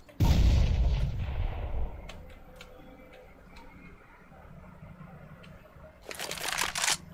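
A grenade explodes in Counter-Strike: Global Offensive, a loud, deep blast that booms and fades over about a second, followed by quieter ticks and in-game sounds and another harsh burst near the end.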